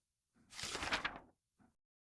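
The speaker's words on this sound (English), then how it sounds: "the door opened." A door opens in a short, quiet burst of sliding, scraping noise lasting under a second, followed by a brief faint knock or click.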